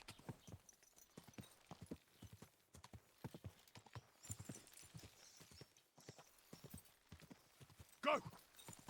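A horse in Kingdom Come: Deliverance II clip-clops along in a steady, even rhythm of hoofbeats. The hooves sound fairly near and soft, and a brief louder whinny-like burst comes near the end.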